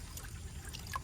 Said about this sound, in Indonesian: Oke, kita siram lagi teman-teman tuh.